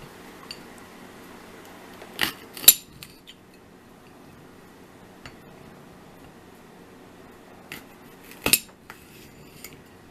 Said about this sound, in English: I'll cut one of these open right here.